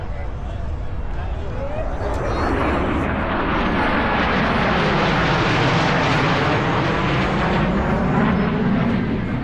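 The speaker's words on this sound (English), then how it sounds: "Blue Angels 5 and 6 are approaching the flight line at 400 miles per hour" Blue Angels jets 5 and 6 approach the flight line at about 400 mph at the Arctic Thunder air show, a loud, sustained roar that builds and sweeps across the whole clip with no talk.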